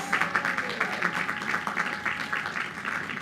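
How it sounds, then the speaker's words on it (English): Sustained applause from a commencement crowd at Queens College fills the space for a student speaker, a dense continuous patter of many hands with gentle surges, no voices standing out. "Another big round of applause for our student speaker, David Davidoff."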